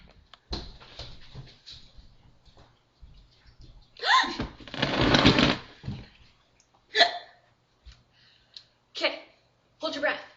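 A person hiccups several times in short, sharp bursts spaced irregularly, alongside bits of talk and a longer vocal outburst in the middle, close and fairly quiet.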